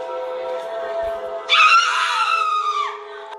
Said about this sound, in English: she screams as if the object burns her to the core.